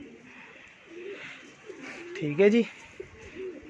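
Pigeons coo on a rooftop, soft low rolling calls repeating at close to middle distance, with one fuller coo standing out among them as someone talks quietly alongside.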